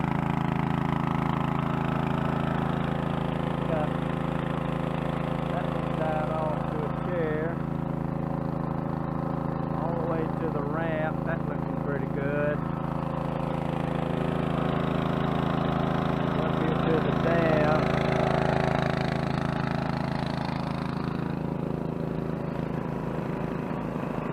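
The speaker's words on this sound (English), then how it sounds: "Okay, we got them two 2-inch pumps going." Two 2-inch water pumps run together at a creek, a steady low engine drone that holds throughout while someone talks over it.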